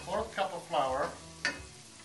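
A quarter cup of flour is stirred into a cooking mixture in a pan, with a few soft scraping and swirling strokes over a quiet sizzle, close by and with no talking.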